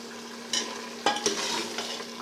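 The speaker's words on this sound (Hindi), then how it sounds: "तो अब हम इसकी भुनाई करने लगे हैं शुरू, अच्छे तरीके से हम इसको भून लेंगे।" Meat fries in ghee while being stirred, a soft sizzle with a few sharp spoon scrapes and knocks against the pan, close and fairly quiet.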